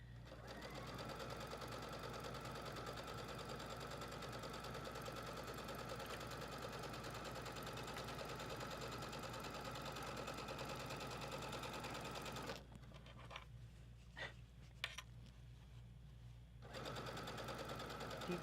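A sewing machine runs steadily, stitching a folded fabric basket, a continuous close whirring hum for about twelve seconds, then a short stretch of quieter pauses and faint bumps before the motor starts up again.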